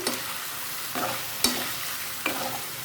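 Shredded boiled baim eel fish goes into a hot frying pan for a Bengali jhura bhuna, giving a steady soft sizzle broken by a few brief stirring scrapes, close and alone without talk.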